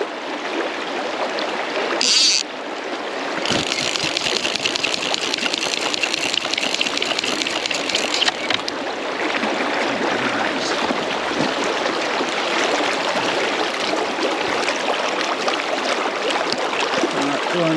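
A fast, swollen spate river after summer floods rushes in a loud, steady broadband roar close by, continuous throughout with brief shifts in texture as the listener moves through the current.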